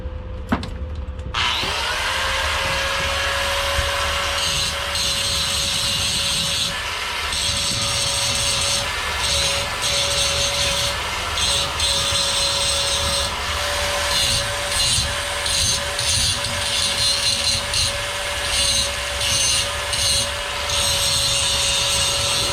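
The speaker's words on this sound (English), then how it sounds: "We're going to switch to the angle grinder." Angle grinder working a pipe aboard an Alaskan fishing boat: after a brief start the motor spins up to a steady loud whine with continuous harsh abrasive grinding, the pitch dipping slightly as pressure changes, running close and unbroken for over twenty seconds.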